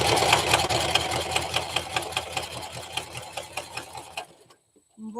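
Sewing machine stitching the back opening of a fabric mouse toy, a loud fast mechanical whirr with rapid rhythmic clatter for about four seconds before stopping abruptly.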